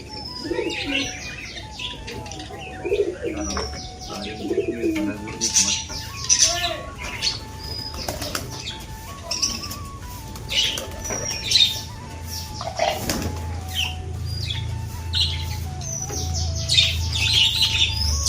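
Pigeons squawk, chirp and coo while feeding, with occasional wing flaps; the calls are irregular and fairly close, layered over a faint tonal background hum and light ambient noise.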